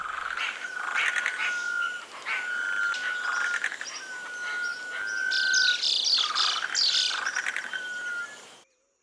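Long, thin, drawn-out whistled calls of a sunbittern repeat several times, with busy chirping from other birds and a faint hum of frogs and insects behind.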